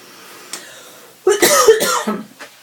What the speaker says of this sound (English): Hopefully we'll get the coughing out of the way.